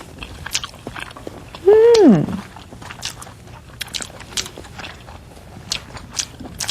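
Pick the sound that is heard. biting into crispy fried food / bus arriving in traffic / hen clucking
biting into crispy fried food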